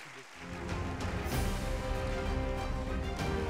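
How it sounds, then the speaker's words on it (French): Applause from a conference plenary audience swells and holds steady as theme music plays over it, a dense, continuous crowd clatter throughout. "Sous un générique et les applaudissements"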